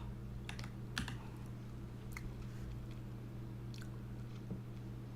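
A new, quiet computer keyboard gives off soft, scattered keystroke clicks in short bursts, faint against a steady low hum in a quiet room.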